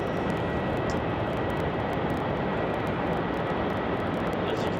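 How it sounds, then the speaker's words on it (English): An airliner taxis at Melbourne Airport toward the international terminal, its engines a steady, broad rumble and roar that holds constant from start to end with no voices. "they're taxiing down now towards the international terminal"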